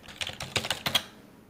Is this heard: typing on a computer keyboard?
yes